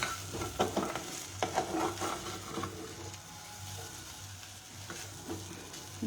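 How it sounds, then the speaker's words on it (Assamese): Milk boiling in a pan on a home stove gives a quiet, steady bubbling hiss, with a few soft clinks and stirring bumps near the start. "আনফালে সেই গাখীৰখিনিও ধুনীয়াকৈ উতলি আছে।"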